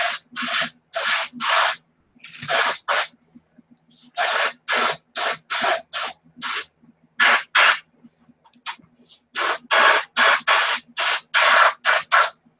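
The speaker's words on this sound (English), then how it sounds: "I need to spray the inside of this" Aerosol spray can misting the inside of a part in a workshop, about two dozen short, loud hissing bursts in quick clusters with brief gaps between them, close up and without talk.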